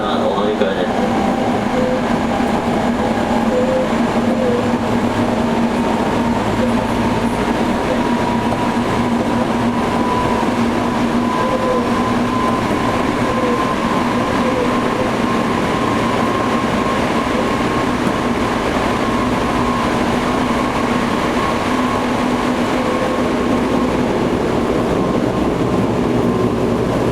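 A Toei 5300 series subway train running on a local service, with a steady loud rumble, a humming motor tone and faint rhythmic wheel clicks continuing without a break, and voices faintly audible beneath it.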